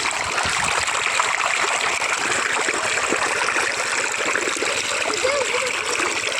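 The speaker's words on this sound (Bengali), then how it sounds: "জল পড়ছে, দেখ জল আসছে, এগুলো সব জল ভর্তি হয়ে যাবে" Water flows and pours across a village picnic field, a continuous rushing splash heard close and loud throughout, with faint voices in the background.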